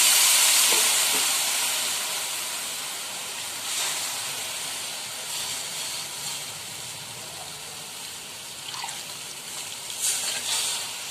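Chicken stock for yakhni pulao pours into a hot pot and hisses loudly at first, then settles into a steady steaming sizzle with a few louder bursts of bubbling.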